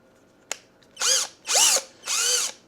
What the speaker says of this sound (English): Okay, it does have a bit of torque to it.